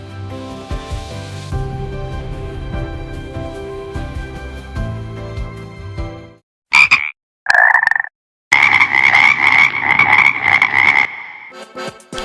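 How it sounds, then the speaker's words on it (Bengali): Frogs in a forest at the first rain croak loudly in rapid buzzing bursts, a few short calls followed by a long sustained chorus, near and alone after a musical passage fades out. "বনে প্রথম বৃষ্টির আনন্দে ব্যাঙেদের গান"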